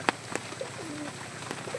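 Pet pigeons in a coop give soft, faint cooing calls with a few light taps and rustles in the background, no talking.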